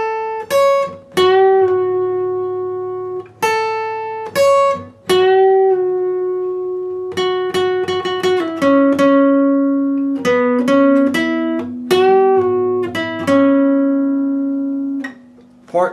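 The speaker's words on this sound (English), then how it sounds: "So I'm going to play part 1 in real speed" Electric or acoustic guitar playing the opening part of a song at full tempo, a steady run of plucked, ringing single notes and arpeggiated chords, close and clear with no talking.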